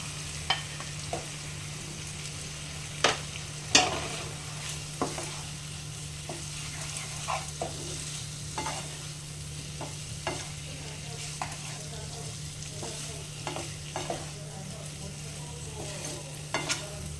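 Potatoes fry in spiced oil in a pan for an alu potol dish, a low steady sizzle punctuated by scattered scrapes and clacks of a stirring spoon, fairly faint and close, without speech.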